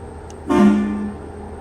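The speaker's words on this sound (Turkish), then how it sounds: "Bu korna dolmuşların sesine çok benziyor Ankara'daki" A single deep Ford Cargo 2842 truck horn blast in Euro Truck Simulator, loud and close, sounding for about half a second before trailing off over a steady background hum.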